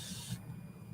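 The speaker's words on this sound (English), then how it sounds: "I'm going to spray the glass" A plastic trigger spray bottle mists water onto a glass bottle, giving one short, soft hiss of spray close by that cuts off quickly and leaves a quiet room hum.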